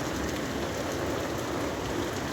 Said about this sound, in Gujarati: બાકી જોઈ શકો છો વરસાદ ચાલુ થઈ ગયો છે.